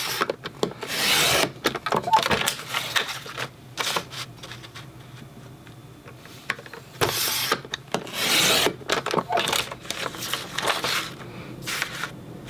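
Paper edges trimmed on a cutting board, with bursts of scraping and sliding cuts separated by quieter pauses and small handling noises, close by.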